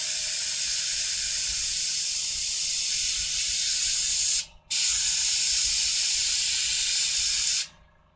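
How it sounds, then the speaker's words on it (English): An airbrush sprays ink in a steady, loud hiss, cutting off briefly midway, then resuming before stopping near the end. "that's all I'm going to do with the airbrush on that"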